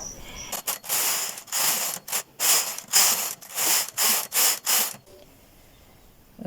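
A knitting machine carriage slides back and forth across the needle bed, giving a series of close, loud ratcheting swooshes in quick rhythmic passes that stop abruptly into near silence.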